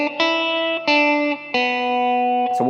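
Distorted electric guitar plays part of a song's solo, four sustained notes with chorus and reverb effects, ending in a quick bend.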